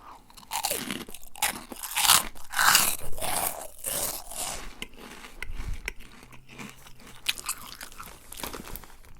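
Monster Munch snacks crunch loudly and close in bursts of bites and chewing, in a whispered junk-food mukbang with no speech during the munching.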